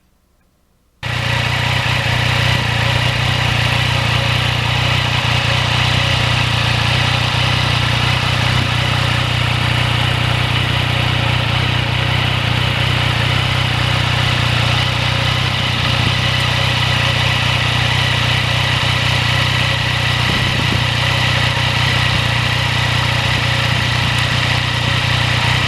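2020 Yamaha MT-09 motorcycle engine while riding on salty winter roads, a steady, loud mechanical drone with a strong low hum that holds unbroken after a brief quiet start, mixed with wind and road noise.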